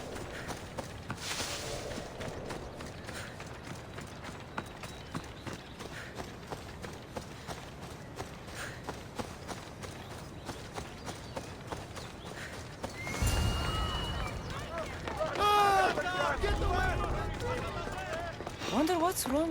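Horses in Assassin's Creed Odyssey clop steadily across the ground with a snort or whinny, under a voice talking over a constant game ambience that swells louder near the end.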